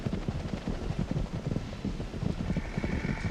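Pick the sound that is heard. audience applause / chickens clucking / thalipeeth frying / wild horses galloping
wild horses galloping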